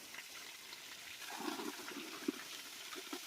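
Water pours from a village tank onto the ground below as a soft, steady splashing rush, faint and continuous with a few brief louder splashes.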